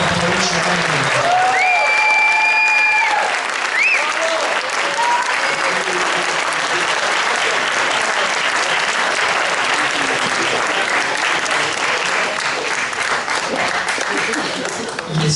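An audience at an appreciation event applauds, sustained loud clapping from a large crowd filling the room, with a voice briefly heard over it at the start.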